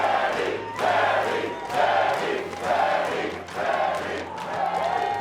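Live esports crowd at a SMITE 2 LAN grand final in Las Vegas, roaring and cheering in repeated loud swells about a second apart, with a steady hum underneath.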